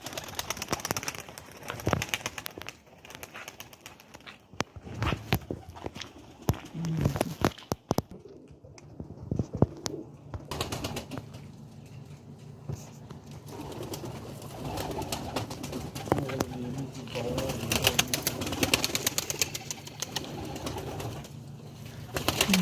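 Pigeons coo repeatedly inside a loft, young birds only recently started flying, with soft rustling and occasional wing flutters; the cooing is steady and fairly close throughout.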